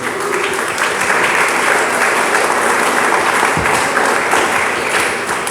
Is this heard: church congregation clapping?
yes